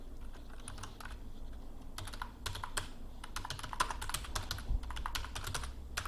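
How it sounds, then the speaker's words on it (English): Computer keyboard typing in quick irregular bursts of clicks, close and moderately loud over a low steady background hum, with brief pauses between runs and no talking. "I can't type and talk at the same time"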